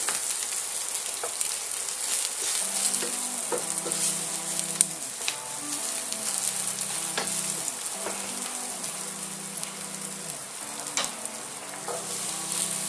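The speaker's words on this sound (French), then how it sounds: "mon oignon commence à colorer" Onion fries in a pan with a constant bright sizzle and crackle, broken by occasional scraping stirs, close up and with no talking.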